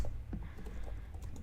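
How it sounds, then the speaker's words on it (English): Fast, irregular keyboard typing during a live Figma design session, steady close clicks running the whole stretch at a low level, with no talking. "how truly horrible I am at typing while thinking, while speaking"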